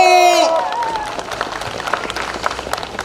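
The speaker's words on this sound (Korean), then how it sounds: "국민 여러분 박수 보내주세요." Crowd applause at an outdoor election campaign rally in Hamyang county, a broad steady clatter of clapping following a tonal start, with talk faint beneath it.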